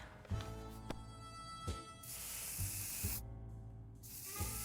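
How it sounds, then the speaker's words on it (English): A can of bug spray being sprayed in the game 60 Seconds Reatomized, heard as a few loud, sustained hissing bursts, each several seconds long, with short gaps between them and no talking. "We finally have a good use for that bug spray."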